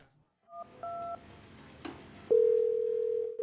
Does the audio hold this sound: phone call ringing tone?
yes